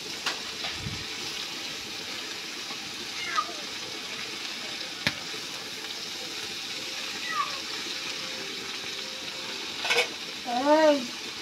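Mixed bitter gourd, teasel gourd, potato and pointed gourd stir-frying in a pan after the onions and chillies have browned, with a steady soft sizzle and occasional clinks of a spatula.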